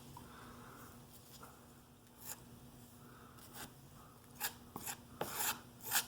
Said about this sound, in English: Both sides I'll trowel it and get that filled up